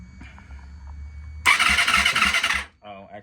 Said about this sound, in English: I'll just crank it over for you guys really quick so you can see what the compression number looks like